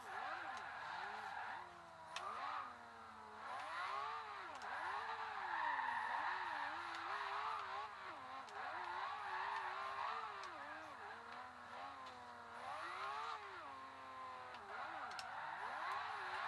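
A Lamborghini Aventador drifting in Forza Horizon 2, its engine note rising and falling in steady sweeps with tire squeal, loud and continuous while someone talks over it.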